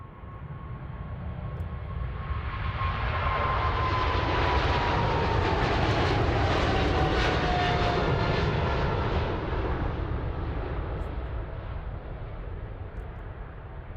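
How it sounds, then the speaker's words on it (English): A cargo airplane departs from Ted Stevens Anchorage International Airport in Alaska, its engine roar swelling to a sustained peak and then easing slightly, heard from a distance with a broad steady rumble. "Evil Air Cargo is departing right now."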